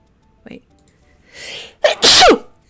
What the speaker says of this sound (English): I did not mean to sneeze in your guys' ear